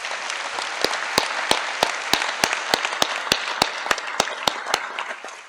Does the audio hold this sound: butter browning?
no